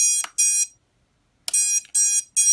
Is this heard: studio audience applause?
no